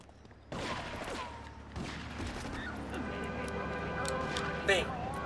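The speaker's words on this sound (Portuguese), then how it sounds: "todo mundo armado, tiro rolando para tudo que é lado" Gunfire breaking out all over the streets in GTA 3 after a cheat turns every pedestrian armed: bursts of shots and impacts start abruptly and keep crackling over game noise, mixed with someone talking.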